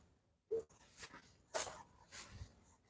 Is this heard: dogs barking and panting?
yes